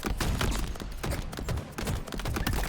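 Rapid gunfire at bots in Halo Infinite, a loud continuous barrage of shots with brief gaps between bursts, close and dense.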